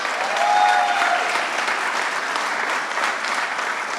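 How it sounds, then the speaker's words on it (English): An audience at the opening of a welcome center in Western New York breaks into a sustained round of applause, many hands clapping evenly and fairly close, with no talk over it. "Can I get a round of applause for the people from Grand Island?"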